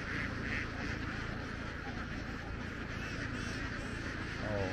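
A flock of ducks quacks across an open field at night in the Mekong Delta countryside, a dense, continuous chatter of many birds with steady background noise and no talk.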